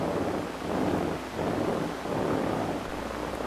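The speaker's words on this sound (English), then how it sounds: "We can actually blow on this and hear if we see a change." Air is blown across a cockroach leg resting on an amplified microphone, giving a rushing, crackling hiss that swells in two long waves, loud and close, with no talking.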